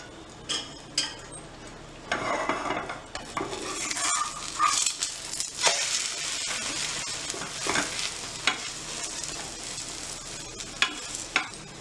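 A breakfast mixture cooks in a pan over a low flame, giving a steady soft sizzle broken by stirring scrapes and occasional utensil clinks against the pan throughout.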